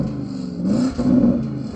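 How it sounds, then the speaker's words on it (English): Porsche Turbo GT engine revved in its sportiest drive mode, a loud mid-range roar that swells twice in quick succession against a steady engine drone, close to the car. "So I'm going to rev up this Porsche."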